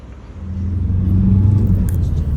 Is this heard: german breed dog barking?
no